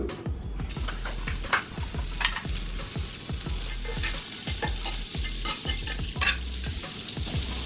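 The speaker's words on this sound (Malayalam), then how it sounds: "അപ്പോൾ ബട്ടറാണ് നമ്മൾ ആദ്യം അതിനകത്ത് ഇടുന്നത്." Butter sizzles and fries steadily in a hot pan on a Vietnamese street-food stall, with a continuous crackling hiss and repeated close stirring knocks throughout.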